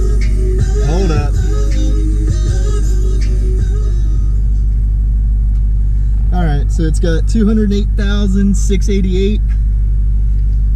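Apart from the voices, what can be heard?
6.0 Powerstroke diesel truck idling with straight pipe exhaust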